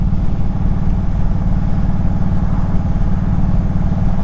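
Indian Super Chief Limited motorcycle engine running steadily while riding, a loud, close, even low rumble with a fast pulsing beat and no voices.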